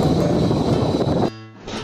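Toz portable fan running at speed 120 gives a steady broadband whoosh of rushing air up close, which cuts off abruptly near the end, leaving a faint hum.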